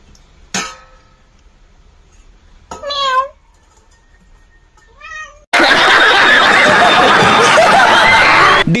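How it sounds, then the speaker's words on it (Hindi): A cat meows in a few short, separate calls, then a loud burst of noisy commotion takes over to the end, with a person present while someone eats quietly. "दीदी चुपके से खाना खा रही थी लेकिन सच में बिल्ली आ गई।"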